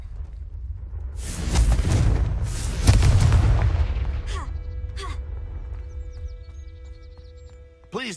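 A Confringo fire spell in Hogwarts Legacy erupts into a deep rumbling blast that swells and fades over a couple of seconds, followed by light magical chimes and game effects.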